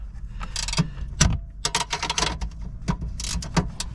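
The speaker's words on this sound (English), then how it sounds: "here's my trusty Halford's double-ended ratchet spanner" A Halfords double-ended ratchet spanner clicks in quick bursts of ratcheting near the seat mount of a VW Transporter, sharp metallic clatters separated by brief pauses, close and fairly quiet.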